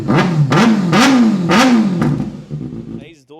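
A superbike engine, a 2024 Delhi-registered model from a lineup including Kawasaki ZX6R, ZX10R, Z900 and BMW, revs in four loud rising surges, then settles toward idle, with someone speaking near the end.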